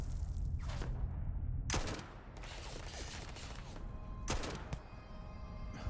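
Heavy gunfire from a snowy battlefield in a video game with pirate enemies, with several loud sharp bursts at about 1.8 s and 4.4 s over a dense, continuous rumble of battle noise.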